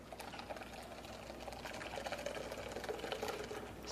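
Homemade sesame milk pours steadily from a blender jug through a strainer, a continuous soft liquid stream with some light clatter, close and moderately quiet.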